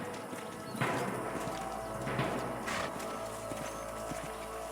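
Horse hooves clip-clopping at a walk in the video game Red Dead Redemption, a few soft, rhythmic thuds over a low ambient rumble.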